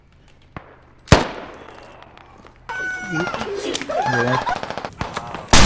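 High-explosive shell blasts in the military shooter game Squad, sharp loud bangs followed by a burst of rapid gunfire-like crackling, with a brief spoken word.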